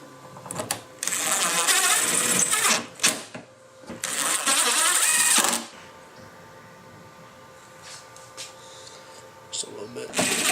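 A power drill runs in two loud, steady bursts of about two seconds each, boring into an aluminum wing bracket, then the noise drops to quieter handling sounds.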